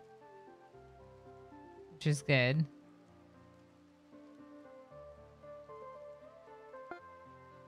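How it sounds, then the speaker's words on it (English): Soft, steady rain patters in the RimWorld video game beneath background music, while a person talks briefly over it. "And it did start raining"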